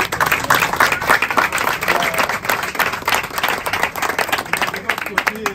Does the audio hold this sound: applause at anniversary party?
yes